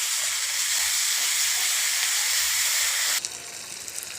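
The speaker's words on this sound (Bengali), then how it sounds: "বাটা মশলা 2 চামচ আদা রসুন বাটা, পেঁয়াজ বাটা দিয়ে দেব 2 চামচ, দিয়ে ভালো করে কষিয়ে নেব।" Ginger-garlic and onion paste for prawn curry sizzles loudly in hot oil, a steady close hiss that drops off sharply near the end to a quieter crackle.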